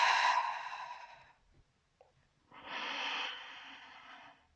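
A person exhales during a Pilates back exercise, with two long audible breaths: a strong outward blow, a short pause, then a second softer breath.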